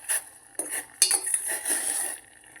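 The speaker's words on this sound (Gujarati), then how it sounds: "એને હવે આપણે બીજા વાસણમાં ગાળી લઈએ" Butterfly pea flower tea being strained into another vessel, with a few metallic clinks and scrapes of a strainer and pots plus a light pouring wash, close and fairly clear.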